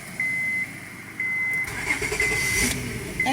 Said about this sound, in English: I'm gonna see if I can turn on the engine to see if it works.